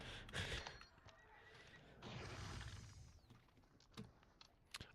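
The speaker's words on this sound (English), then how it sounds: "I love hearing that sound of the horse." A horse neighs loudly in a video game, a whinny that rises and then trails off, followed by quieter clicks and taps of keyboard and game noise.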